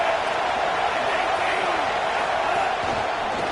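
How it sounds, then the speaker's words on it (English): Stadium crowd roar in a Bama vs LSU football video game, a dense, steady wall of cheering noise that holds loud and unbroken while the defense lines up on third down. "Decibels rising as the crowd gets behind this defense on third down."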